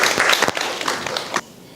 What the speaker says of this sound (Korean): 이쯤에서 다시 한번 이민호 선생님께 큰 박수 부탁드립니다